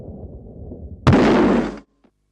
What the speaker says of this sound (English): First, an explosion with a narrow, sufficient crack.